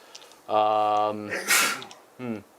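A single person's sneeze during a Warhammer 40k tabletop battle session: a drawn-out voiced intake, then a sharp breathy burst, with a brief voiced sound after, close and fairly loud.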